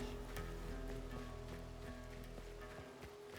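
Steady rain falling in the video game Weird West, a quiet, continuous hiss of patter with scattered drop ticks and a low tonal hum underneath, holding even throughout with no voices.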